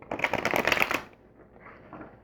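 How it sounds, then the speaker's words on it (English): A quick riffle of cards being shuffled, a dense flurry of crisp flicking clicks that stops abruptly, leaving faint quiet handling noise. "Do a few more shuffles and then I'll cut the deck."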